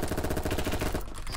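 M249 light machine gun in the Roblox game Apocalypse Rising 2, firing a fast, even stream of shots that is loud and close, stopping abruptly near the end.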